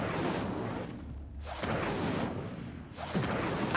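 An Incendio fire spell cast in Hogwarts Legacy, heard as repeated roaring whooshes of flame in several surging waves with brief dips between, moderately loud, no talk.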